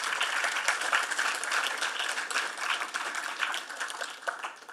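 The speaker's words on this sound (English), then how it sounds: "let's have a round of applause for our students" Applause for students from an audience at a morning event, a moderate, somewhat sparse patter of individual claps that stays fairly even, then begins to thin out near the end.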